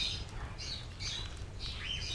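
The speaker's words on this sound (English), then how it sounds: "This is an elaborate indoor aviary, filled with exotic plants, as well as numerous strange birds." Strange exotic birds in an elaborate indoor aviary from the video game Baldur's Gate 2 give repeated bright squawks and chirps in short bursts over a low steady background hum, with no talking.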